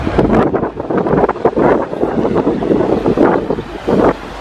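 Strong, cold wind buffets the microphone outdoors at a crowded Norwegian Constitution Day celebration, producing loud, gusty, irregular rumbling bursts that rise and fall throughout.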